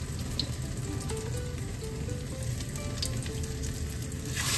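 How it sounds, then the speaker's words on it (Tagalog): Beaten egg for a Filipino eggplant omelette (tortang talong) frying in oil in a pan, a steady close sizzle with crackling pops that holds evenly throughout, no talking. "At habang napiprito po ang itlog"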